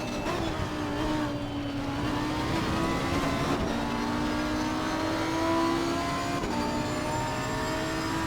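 Race car engine in the Assetto Corsa Competizione sim racing game drones steadily throughout, its pitch rising and falling with gear changes and throttle, loud and continuous with no talk.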